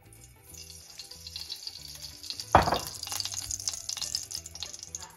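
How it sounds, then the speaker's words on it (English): Cooking oil hits a warm pan with a sudden close hiss that settles into a steady sizzle, heard alone in a home kitchen with a faint background hum. "Now that the pan is warm, we're going to add a dash of cooking oil."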